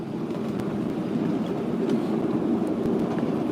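Steady rumble of a White Creek Railroad steam train heard from on board, a continuous low roar with faint rattles and clanks over it, holding even and fairly loud throughout.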